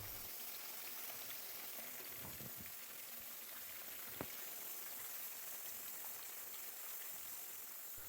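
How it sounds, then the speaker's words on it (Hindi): Chicken leg pieces fry on a medium flame, giving a steady, even sizzle like light rain, with a faint tap or two and no talking. "अब हम इसको मीडियम फ्लेम पे फ्राई करेंगे"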